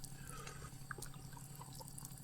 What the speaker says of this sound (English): Now we have water flowing.